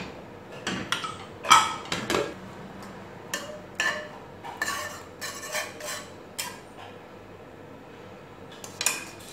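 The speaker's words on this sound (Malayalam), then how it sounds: "ഇനി നമുക്ക് കുക്കറൊന്ന് തുറന്ന് നോക്കാം." A pressure cooker is opened after a Kerala-style sambar's chana dal finishes cooking, giving scattered metallic clanks and lid knocks of varying loudness, close by, with quieter kitchen rattles between them.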